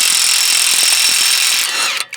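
A pneumatic impact wrench hammers continuously, loud and close, while removing a CV axle from a Nissan Altima, its rapid blows under a high whine, then cutting off abruptly near the end.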